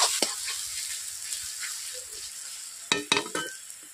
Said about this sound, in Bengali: পেঁয়াজগুলোকে আমি এইভাবে ভেজে নিচ্ছি